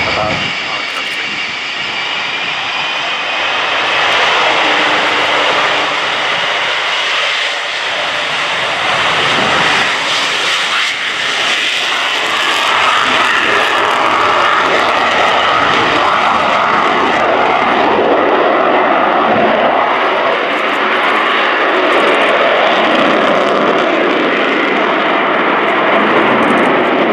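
An Avro Vulcan B.2 jet bomber, XH558, passes at the Fairford air show, a loud sustained jet roar that swells and holds across the whole pass, with a commentator's voice partly heard under it.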